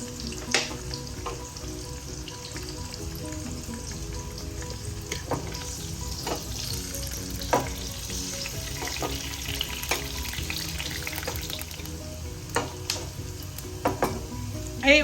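Cumin seeds and asafoetida sizzle steadily in hot desi ghee for tomato rice pulao, a continuous crackling fry with scattered sharper pops and spoon clinks, close and moderately loud, with no talking.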